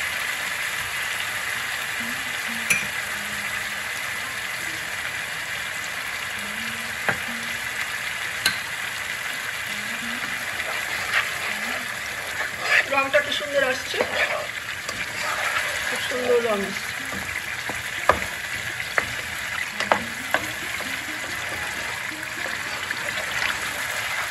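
Spice paste sizzles softly in hot oil for Bengali dhokar dalna, a lentil cake curry, a steady frying hiss with occasional stirring clinks while someone talks over it throughout.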